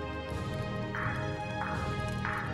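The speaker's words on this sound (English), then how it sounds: "Oh wow, you can hear the footsteps through the" Footsteps in the video game Dragon Quest Swords, a regular patter of steps over dense background game music with repeating tonal chimes.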